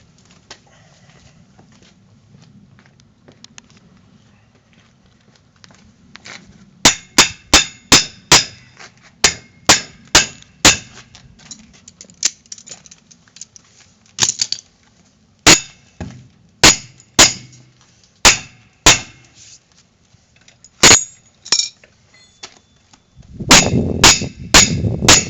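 Sharp, loud metallic hammer strikes drive a master link into a chain, landing in irregular bursts of single and double blows separated by pauses, with a brief clatter of handling noise at the end.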